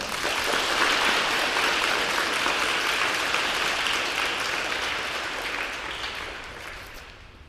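Warm applause greeting a speaker at a girls' school prize giving for grades one to three, a dense, sustained crowd of clapping hands that gradually thins and fades toward the end.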